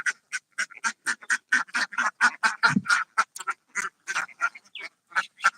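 Ducks on a duck farm quack loudly and close in a rapid, repeated series of sharp calls, with brief gaps between bursts.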